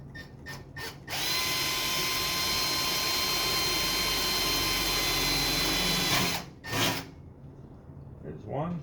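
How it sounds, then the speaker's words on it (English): A cordless drill with a very dull bit whines steadily for about five seconds at close range while modding a computer case, framed by a few short bursts and scraping noises before and after. "We're going to need a drill."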